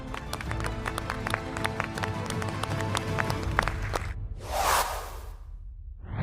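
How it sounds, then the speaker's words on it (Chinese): Audience applause at a startup competition for five teams: steady crowd clapping with sharp individual claps, then a brief rushing whoosh near the end. "我们再一次掌声给这5组鼓励一下"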